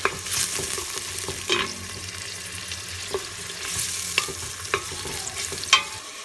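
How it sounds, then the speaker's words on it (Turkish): About 300 grams of cubed beef sautéing with onions in a pan: constant sizzling and frying with intermittent scraping and clinking as the meat is stirred, sharp utensil knocks scattered throughout. "Yaklaşık 300 gram kuşbaşını ilave ediyorum. Bunu da bir güzel kavuruyoruz."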